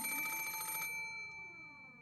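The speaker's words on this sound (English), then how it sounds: "there was a phone on the bedside table across from the one with the doll. It was ringing noisily." A telephone on a bedside table rings with a loud, rapid electric bell trill that stops abruptly, leaving a fading metallic ring.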